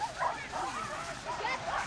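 Farm dogs on an Irish hillside give a run of yips and bow-wow barks at moderate distance, repeating irregularly through the clip with a faint voice mixed in.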